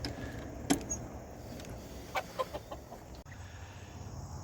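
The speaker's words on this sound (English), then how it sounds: "Evidently we've got a neighbor's chicken in here or something." A neighbor's chicken clucking in a farmyard shed, with a few short, soft clucks spread through steady outdoor background noise.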